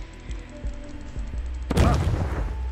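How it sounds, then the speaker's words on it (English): A deep booming explosion from a bomb cannon in the video game Totally Accurate Battle Simulator bursts out partway through, following a run of low thuds, its rumble lingering to the end. "blow the place up with a bomb cannon"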